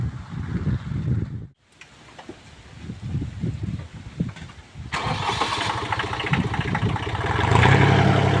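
A tractor engine close by cranks in rough pulses, pauses briefly, cranks again, then catches and settles into a steady running rumble that grows louder toward the end.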